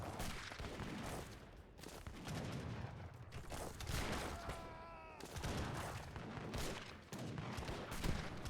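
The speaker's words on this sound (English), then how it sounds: "No infantry firing at the infantry while your cannons fire at the cav" Rapid, overlapping volleys of musket fire and cannon shots from infantry and artillery in an Age of Empires 3 battle, a dense, continuous crackle of gunfire filling the whole stretch with little pause.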